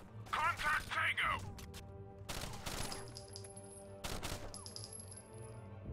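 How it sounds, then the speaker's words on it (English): Gunfire and a heavy blast from a grenade going off in Rainbow Six: Vegas, loud broadband bursts in the middle of the clip after brief voice chatter, with a sustained electronic tone and combat noise continuing throughout. "That was a grenade."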